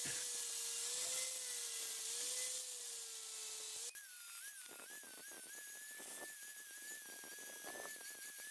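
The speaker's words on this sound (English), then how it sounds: "I chose to notch the tubes with an angle grinder instead of my tube notcher" An angle grinder fitted with a 40-60 grit flap sanding disc notches metal tubes for an electric dirt bike chassis. It gives a steady high-pitched whine that drops sharply in pitch midway as the disc bites into the metal, with grinding rasp underneath.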